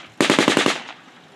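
Automatic fire from an assault rifle at a Vietnam War reenactment, a rapid burst of about six loud, close shots with a short ringing decay afterward and no voices.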